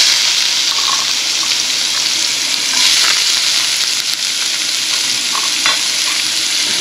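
Onions fry in hot oil with a loud, steady, close sizzling hiss throughout, with faint stirring scrapes and no voices.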